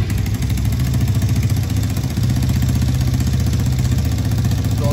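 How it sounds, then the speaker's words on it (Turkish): A car engine runs steadily with a small exhaust leak, giving a continuous low throbbing rumble that stays close and even from start to finish. "Aa, motor çalıştı."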